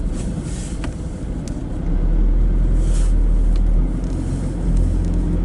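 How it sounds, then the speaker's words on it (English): Cars sit in a traffic jam with engines idling and a low, steady rumble close by. The rumble grows louder after about two seconds, and wind buffets the microphone. "of course we start with a traffic jam"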